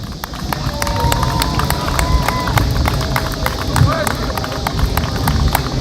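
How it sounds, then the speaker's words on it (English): Outdoor crowd applause at a softball tournament award ceremony, steady crisp clapping sustained throughout, moderately close, with crowd murmur beneath. "Please give a warm round of applause for Bob Ancona."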